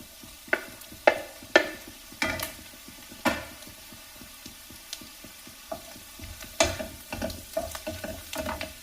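Egg whites being stirred into transparent sautéed onions in a pan, with a soft steady fry under repeated scraping and clattering strokes of a spoon, close and with no talk.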